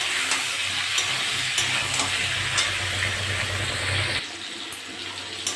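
Potatoes and pointed gourd frying in a pan, a steady close sizzle with a low rumble and occasional stirring scrapes, dropping quieter near the end.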